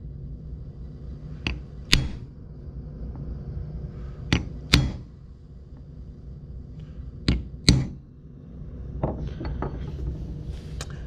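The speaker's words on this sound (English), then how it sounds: "I'm going to start with my punch. And I'm going to give myself a dimple there in each of those 6 locations." Sharp metallic hammer blows on a punch set dimples into a storage project workpiece before drilling, struck in spaced pairs, loud and close with a quiet shop in between.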